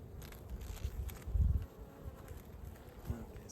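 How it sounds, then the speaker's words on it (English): Honey bees buzzing at a hive entrance while a hornet is fended off, a steady close insect drone with a louder swell midway and no talking. "we got a hornet right here and the bees are keeping them out"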